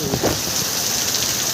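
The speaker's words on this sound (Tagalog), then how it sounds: "Ayun, lakas ang ulan." Heavy rain pours down steadily in a loud, dense broadband wash, close and continuous throughout, with no voices over it.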